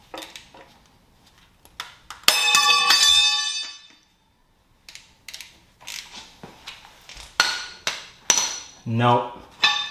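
A pry bar levers against a part on an Evo 4G63T engine with spun bearings, giving sharp metallic clanks and ringing knocks, one loud scraping strain, then a run of irregular close clinks.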